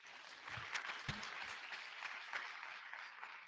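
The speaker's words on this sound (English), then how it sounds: "Round of applause." Faint, distant applause from a lecture audience after a talk on deep generative models, a soft steady patter of clapping heard from far back in the room.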